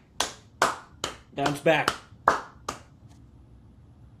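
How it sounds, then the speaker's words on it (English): A single person clapping hands during a baseball talk show, about eight separate claps in an uneven rhythm, close and clear, with a short spoken phrase midway. "You're the only one clapping."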